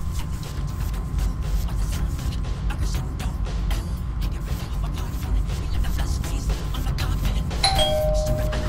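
A doorbell chimes once near the end for a pizza delivery, a short bright ding-dong rising over a steady low rumbling background hum.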